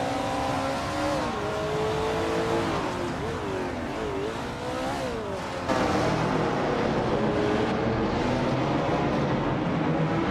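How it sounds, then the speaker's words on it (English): Lola T70 Mach 1 race car from the 1960s driven in a racing video game, its engine a loud steady drone with pitch rising and falling through gear changes and revs, continuous throughout with a louder shift partway. "Bot Begoldnerd is driving a Lola T70 Mach 1"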